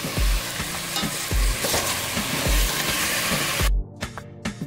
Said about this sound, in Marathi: चिकन आपण छानपैकी परतून घेऊया।